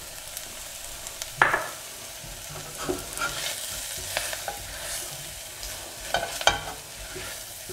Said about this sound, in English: keep stirring until all the flour is absorbed